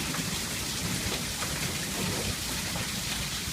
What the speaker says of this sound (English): I still love the rain.